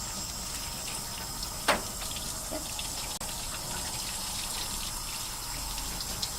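Tap water runs in a steady, continuous stream while a baby is wetted during a bath, with a faint knock partway through and no talking.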